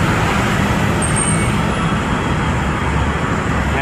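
Steady, dense road traffic on EDSA, a major Manila highway viewed from the Trinoma mall, a continuous loud roar of cars, buses and trucks with no talk.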